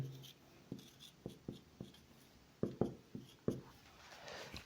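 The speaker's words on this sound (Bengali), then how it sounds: "আমি একটু সাইডে লিখি" Pen or pencil writes by hand on paper while someone works out a physics motion problem, with a series of short scratchy strokes and taps in irregular bursts, close and fairly quiet, with no talking.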